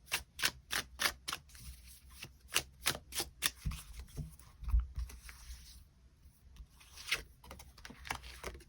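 Tarot cards being shuffled and drawn, a run of quick crisp riffling snaps followed by a few softer card slaps and slides, close and alone with no talking.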